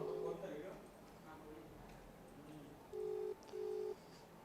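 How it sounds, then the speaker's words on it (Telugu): Telephone ringback tones on an outgoing call, two steady buzzing pulses close together heard fairly clearly, with someone speaking quietly underneath and faint background noise. "సెట్ చేస్తున్నాను రింగ్ అవుతుంది ఫోను"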